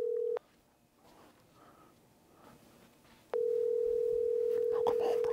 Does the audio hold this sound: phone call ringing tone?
yes